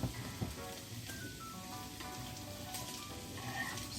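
An egg fries in a pan, a soft steady crackling patter like light rain, fairly faint and continuous with no talking.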